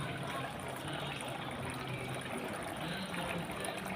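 Water trickles steadily through a decorative crystal item, a soft continuous splashing flow heard up close with no talk.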